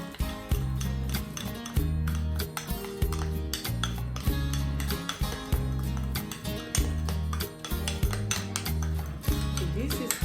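Ingredients being stirred together with coconut oil in a bowl, a utensil clinking and scraping against the sides in a busy, rhythmic stream of taps and knocks, close and fairly loud.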